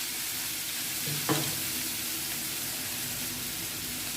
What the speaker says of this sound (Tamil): தெளிச்சுட்டு நல்லா கிண்டி விட்டுக்கலாம்.